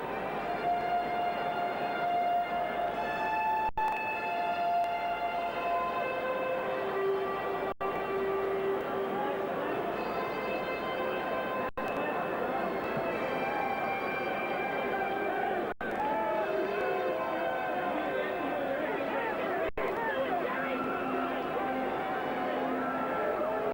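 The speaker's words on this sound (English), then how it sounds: "we'll listen to the crowd react as Cooney rounds the corner" Boxing arena crowd at a George Foreman versus Gerry Cooney fight, a steady loud roar and cheering that swells and holds as Cooney comes into view, with an announcer's voice and music tones mixed through the din.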